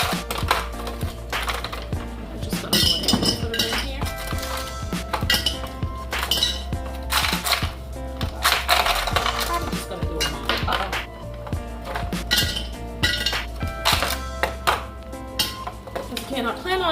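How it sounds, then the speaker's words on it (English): Ice cubes clatter and clink as they are scooped from a home freezer, a busy run of sharp hard knocks and rattles lasting the whole stretch. "I'm gonna go in my freezer and but get some ice cubes."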